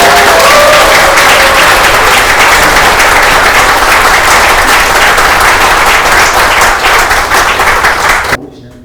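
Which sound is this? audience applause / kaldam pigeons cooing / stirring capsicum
audience applause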